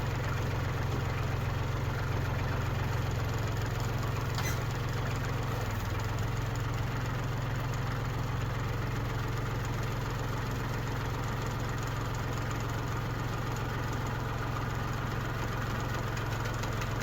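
A tractor engine runs steadily at a low, heavy idle-like drone while towing with a 30-foot tow strap, loud and continuous with no talk.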